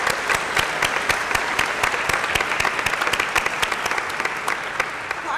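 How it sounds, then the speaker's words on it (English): An audience at a Chavez stamp ceremony breaks into sustained, dense applause after a film screening, a continuous crackle of many hands clapping with no voices over it. "Let's give a big applause for the people that made the film."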